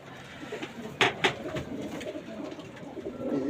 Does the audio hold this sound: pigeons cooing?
yes